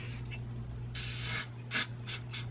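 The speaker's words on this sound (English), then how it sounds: "And I just spray a little bit on there." Aussie maximum hold hairspray goes onto hair in a few short, close hisses, one longer spray followed by quick brief bursts over a quiet background hum.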